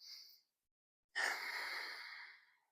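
A single relaxed breath taken before a yoga box-breathing sequence: a short airy exhale, a pause of silence, then a longer, fuller breath that fades out slowly, close and soft.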